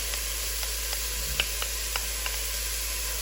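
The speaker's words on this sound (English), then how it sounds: "Now that the onions have become translucent, I like to add my garlic" Garlic and translucent onions sautéing in a soup pot give a steady, even sizzle and hiss, with a few faint clicks of stirring scattered through it and no voices.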